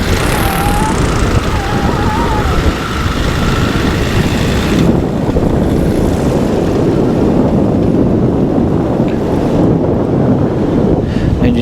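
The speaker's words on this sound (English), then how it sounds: "there's a gust coming through" Heavy wind rushes loudly and continuously over the microphone during a light aircraft landing, with a brief high whine early on, the blustery roar persisting throughout.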